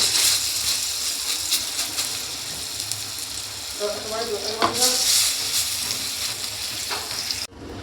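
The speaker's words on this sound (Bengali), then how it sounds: "এগুলোকে উল্টে দেবো, উল্টে পাল্টে ভেজে নেব" Vegetable fritters coated in poppy seed paste frying in hot oil in a kadai, a dense continuous sizzle with brief bubbling spurts and occasional stirring clinks, close up.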